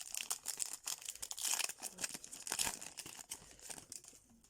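A foil trading card booster pack being torn and crinkled open by hand, a close run of sharp crackling rips and rustles in irregular bursts, with no voices.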